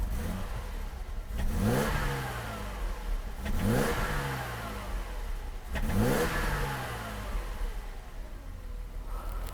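A Mercedes W126 300SEL engine, freshly serviced and warm after idling, revs up three times in steady succession, each blip rising and falling back cleanly, heard close with no talk.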